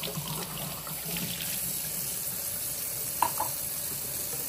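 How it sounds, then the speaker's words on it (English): Tap water runs steadily over a removable part of a Spinn coffee machine being rinsed at a sink, a continuous close splashing stream with a small knock partway through and no talking. "I don't normally rinse this, but since I have it over here, I go ahead and rinse it."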